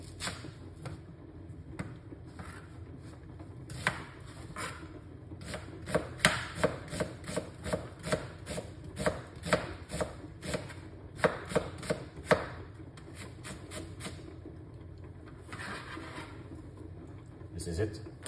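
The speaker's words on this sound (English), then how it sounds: "One, cut up some vegetable now." A kitchen knife chops vegetables, white onion among them, on a board: a steady run of sharp, close taps that comes in uneven bursts under continuous background noise and voices.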